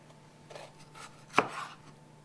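A single sharp knife chop through the top of a poblano pepper lands on a cutting board, preceded by a few soft handling sounds in an otherwise quiet kitchen.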